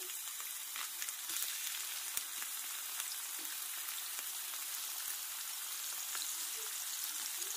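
Mushrooms fry in a pan with a steady, soft sizzle, a continuous close crackle interrupted by occasional light ticks and pops.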